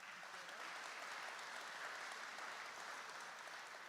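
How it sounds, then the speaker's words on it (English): A steady, even wash of applause from an audience at a business hall of fame ceremony, dense and continuous throughout with no talking heard over it. "warm round of applause."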